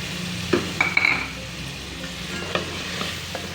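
Chopped tomatoes and masala sizzling and frying in a pan while being stirred, with a few sharp scrape and clatter hits from a utensil over a low steady sizzle.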